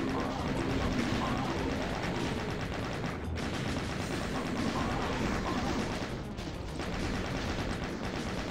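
Rapid chain gun fire in the classic shooter Doom, a dense continuous rattle of shots with explosive bursts mixed in, loud and unbroken across the stretch with brief dips.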